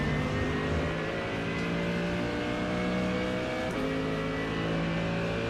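Engine note of a big front-engined GT car in iRacing held under steady trail throttle, a continuous droning hum with a slight pitch dip partway through, loud and constant with no talk.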